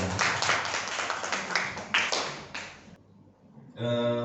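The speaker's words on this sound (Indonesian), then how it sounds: "Mohon berikan tepuk tangan yang meriah untuk beliau." An audience at a school positive-culture dissemination session clapping for a presenter, a brief burst of hand claps that fades to near silence before a tone or voice cuts in.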